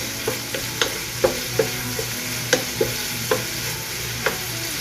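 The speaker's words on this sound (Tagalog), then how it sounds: "Luto-lutuin muna natin yung baboy" Pork stir-fried in a pan for a pork and bitter melon dish: a steady sizzle underlies repeated sharp scrapes and clacks of a utensil stirring, roughly one every half second, close and without talk.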